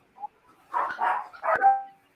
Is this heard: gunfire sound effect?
no